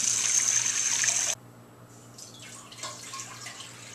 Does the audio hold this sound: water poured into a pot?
yes